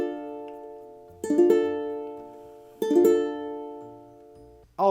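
A ukulele chord for a song is strummed twice, each strum bright and ringing with a slow decay, clear and close, followed by the start of a third strum.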